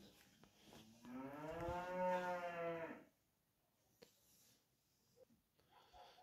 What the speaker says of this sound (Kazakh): қойлардың барлығы жас қойлар.